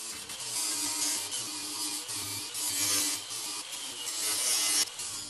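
Metal support on a Jeep being cut and sanded back by hand, a steady abrasive rubbing and rasping that swells and eases in strokes, close and fairly loud with no talking.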